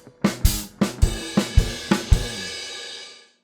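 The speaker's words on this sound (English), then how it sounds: "The second variation of this fill uses the exact same concept and the exact same rhythm, except it adds a crash cymbal." Drum fill from a rock song: a close, loud run of about eight alternating hits, snare strikes paired with crash cymbal splashes in a steady rhythm, the last crash ringing out and decaying to silence.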